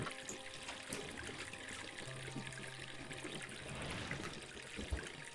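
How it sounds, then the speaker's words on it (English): Water trickling steadily in the Enigmatis hidden-object detective game, a soft continuous wet hiss with faint ambient tones underneath, no talking. "Cold and refreshing water."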